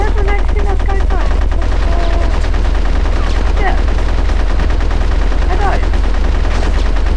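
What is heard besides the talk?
gunfire in the video game Conker's Bad Fur Day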